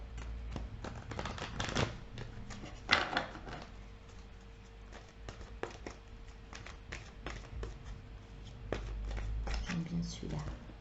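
Oracle cards shuffled and drawn by hand, crisp riffling flutters and soft slaps close by, broken into bursts and mixed with someone speaking French.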